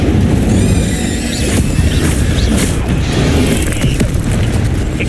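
A heavy, booming burst of fire from the Incendio spell in Hogwarts Legacy, dense and sustained throughout with faint ringing magical tones and thuds layered in, loud and close with no talking.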